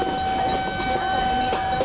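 A Vande Bharat Express horn sounds as a steady, loud tonal blast in a train simulator game, held over the rumble and clatter of the moving train.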